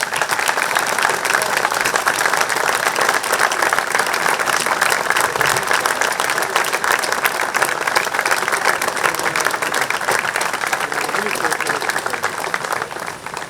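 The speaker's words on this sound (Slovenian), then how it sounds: "Namenimo, prosim, en velik aplavz za celoten pripravljalni odbor" An audience at a theatre performance applauds the organizing committee with steady, full, unbroken applause that holds at an even loudness throughout, and a voice speaks under it.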